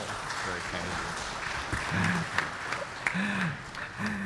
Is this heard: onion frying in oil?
no